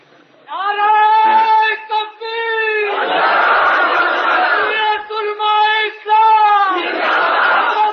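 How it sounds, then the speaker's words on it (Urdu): A large crowd chants slogans at a JUI political conference in Peshawar. A single amplified voice calls out loud, drawn-out lines, and a massed roar of voices answers in alternating waves. "دو چار نعرے اور لگاؤ یار"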